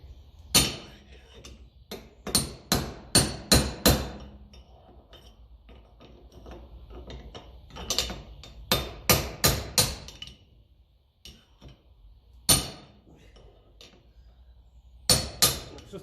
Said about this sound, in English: It's just a matter of tapping it side to side and it comes out.